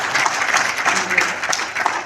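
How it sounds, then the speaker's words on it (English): An audience at a workshop, including a group of seated women, gives a steady round of applause, a continuous moderately loud patter of many hands with a few sharper claps poking through. "Please give a big round of applause for all the women who are sitting over here"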